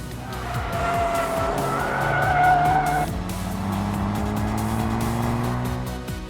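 A Volkswagen Golf GTI on the Winton race track drives under hard acceleration, its engine droning loudly as the tyres squeal steadily through the run.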